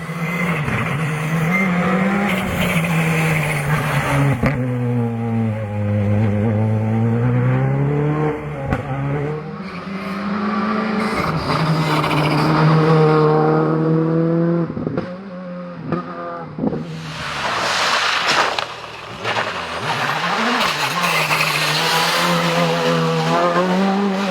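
Toyota GR Yaris rally cars race on a stage at a Japanese rally event, with loud engines revving and shifting through gears in long rising and falling sweeps, tyres squealing and gravel spraying as the cars pass close.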